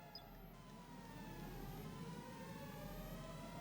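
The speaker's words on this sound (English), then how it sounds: "it says the emergency siren is active" A faint, distant emergency siren in the game Stardeus wails with slowly gliding pitch over a low, steady background hum, with no talking.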